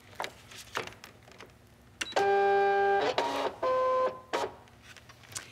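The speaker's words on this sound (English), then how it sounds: "We're going to load it into the machine." A cutting machine draws a loaded mat in, giving a loud steady motor hum with tonal whine that runs about a second, pauses briefly, then runs again, with quiet handling noises before and after.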